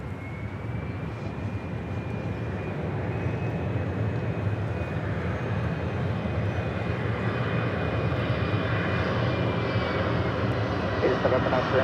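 A Southwest Airlines Boeing 737-800 arriving at LAX from San Jose, its loud jet roar building steadily and holding a thin engine whine as it passes close overhead. There is no talking.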